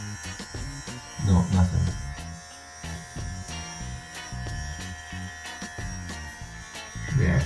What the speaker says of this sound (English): We're gonna go and take a clipper now, and see if the clipper is as close to skin.